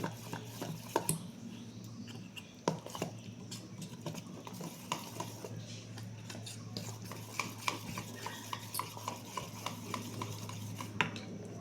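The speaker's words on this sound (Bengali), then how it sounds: "অল্প অল্প করে বারবার জল দিতে হবে, যতটা প্রয়োজন হয়। এরকম করে আমি মোটা একটা ব্যাটার তৈরি করে রেখে দেবো" Thick uttapam batter being stirred by hand while water is added bit by bit, giving a close, steady run of soft wet scraping and light utensil taps against the bowl, with no talking.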